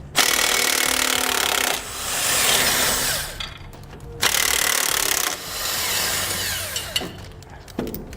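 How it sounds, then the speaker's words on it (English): Removing the U-bolt nuts near the rear axle of a 2007 Toyota Tacoma with a 19mm socket on a power tool, heard as two long whirring runs with gritty rattling between them, close and loud with no speech. "We'll remove our nuts that hold our U-bolt in place towards the rear of the axle using a 19mm socket."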